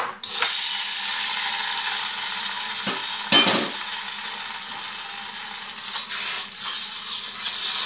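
Tomato paste sautés in oil in a pan with a soft, steady sizzle, broken by a few utensil scrapes and clinks against the pan; no one talks.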